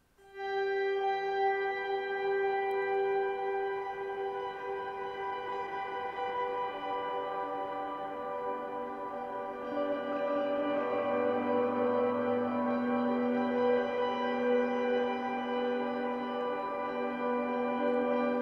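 Electric guitar ambient swell pads through a Zoom G5n with a DiMarzio bridge pickup, soft sustained chords fading in and layering into a quiet, continuous wash with no attack, heard alone.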